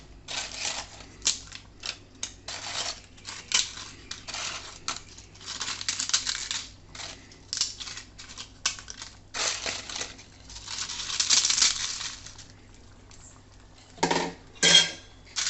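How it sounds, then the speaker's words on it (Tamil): Crushed fried appalam (papad) is added to a simmering potato kootu, with brittle crackling, crumbling and clinking of a utensil against the pot in irregular close bursts, no voices. "இப்போ நம்ம இந்த பொறிச்சு வச்சு அப்பளத்தை சேர்த்துக்கலாம்"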